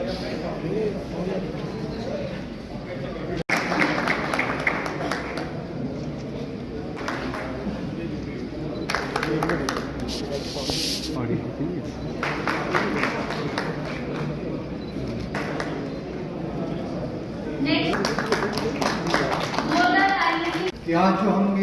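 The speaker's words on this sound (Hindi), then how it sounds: "जोरदार ताली।" Loud clapping from an audience at a Labour Department Shram Utsav celebration, dense and sustained across the whole stretch, rising in bursts and mixed with crowd chatter and a voice on a sound system.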